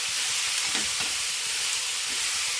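Bitter gourd pieces frying in a pan for a gravy, a loud continuous hissing sizzle with faint stirring scrapes, close and steady throughout, no talk.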